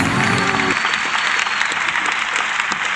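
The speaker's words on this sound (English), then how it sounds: "Oh, this applause goes on for a while." A recorded applause effect on a podcast, a dense, loud, continuous wash of clapping from a crowd, with a brief low voice at the very start.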